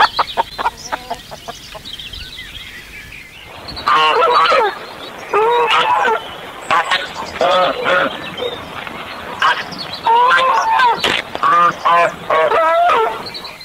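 Farmyard hens with their chicks cluck in a busy, overlapping stream of short calls, close and fairly loud, with a quieter stretch at the start.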